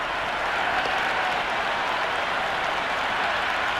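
Cricket stadium crowd cheering and applauding a boundary during an India versus New Zealand match, a dense, steady wash of clapping and roar held at a loud level throughout with no pauses.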